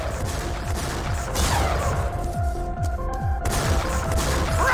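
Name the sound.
rocket explosions in video game Team Fortress 2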